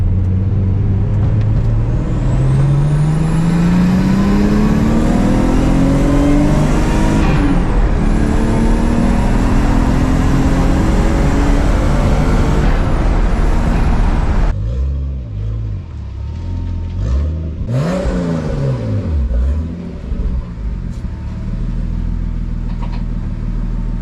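A Nissan Gloria car drives by, its engine loud and close with rising revs through gear changes, then settling to a lower rumbling cruise with a brief surge near the end.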